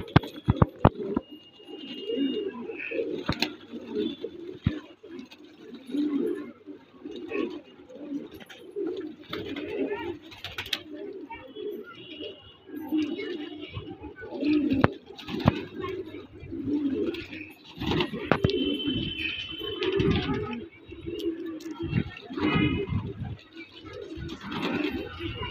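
Pigeons kept by a pigeon fancier coo again and again in soft, rolling bursts, fairly close, with someone talking over them and sharp clicks and knocks scattered throughout.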